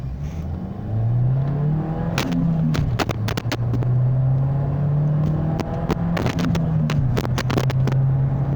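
A 2009 Renault Megane 1.4 TCe engine hums and builds steadily as the car accelerates, with a sustained rising drone and intermittent clicks and road noise.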